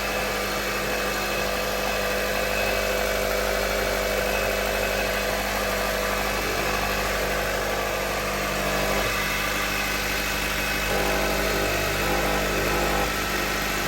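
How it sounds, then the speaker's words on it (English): A hybrid car engine idles close by for the whole stretch, a constant low hum with a faint mechanical vibration and no voices. "All right, so here we got the engine going."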